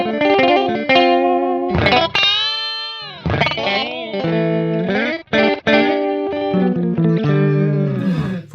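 An electric guitar run through a BOSS PS-3 digital pitch shifter on its fast high-pitch setting, notes sounding unnaturally high and chorused, played in loud sustained phrases with brief gaps.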